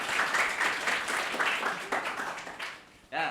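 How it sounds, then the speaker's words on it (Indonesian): Classroom applause from students at a university lecture, a dense patter of clapping that runs steadily for about three seconds, then trails off before a voice starts speaking at the end. "beri tepuk tangan buat teman-teman"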